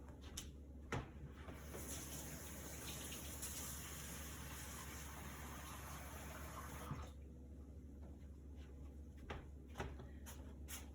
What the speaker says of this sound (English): I'm going to show you what it looks like when you put the first set of water in it